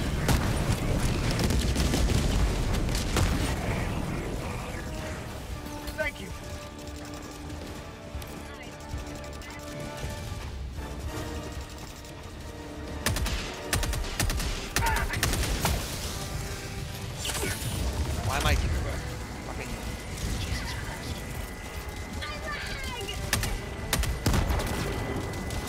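Sustained gunfire and explosions in the video game Helldivers 2, fighting robot enemies, rattle and boom loudly throughout, with bursts of shots over a constant battle din and voices talking over it.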